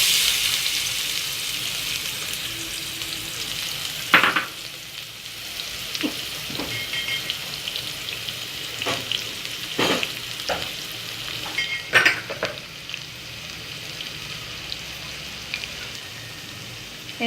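Chopped onions and green chili sauté in hot oil with asafoetida for egg kheema, giving a steady hissing sizzle punctuated by occasional sharp spoon scrapes and taps against the pan; no talking.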